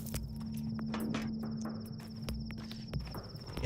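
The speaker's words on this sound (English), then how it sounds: "during the day you have to rely on the buzzing sounds" A steady insect-like buzzing drone hangs over a quiet outdoor scene in Pathologic 2, marking a nearby herb, with soft footsteps and a faint tonal hum underneath.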